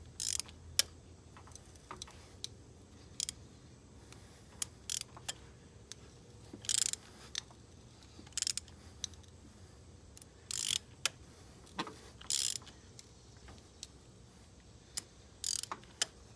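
A ratchet is worked back and forth on a stuck spark plug, giving short, quiet bursts of clicking separated by pauses, close by and with no voices.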